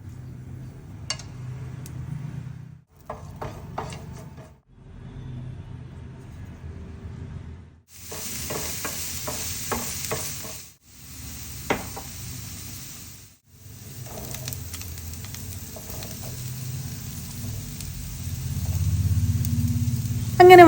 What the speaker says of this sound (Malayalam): നമുക്ക് ഈ പാത്രത്തിൻ്റെ തട്ടലും മുട്ടലൊക്കെ കുറച്ച് കേട്ടിട്ട് അങ്ങ് കുക്കിംഗ് തുടങ്ങിയാലോ?